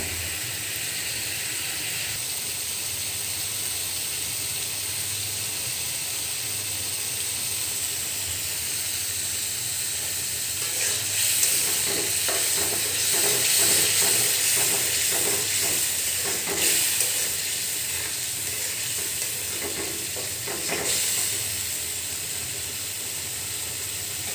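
Beef tripe fries in a pan with a continuous hissing sizzle that swells into louder, crackling bursts midway before settling back to a steady hiss.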